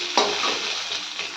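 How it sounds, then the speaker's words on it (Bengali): Potatoes fry in a pan for a rita fish curry, giving a steady close sizzle with a quick stirring scrape at the start and no voices. "এই যে আলু ভাজছি"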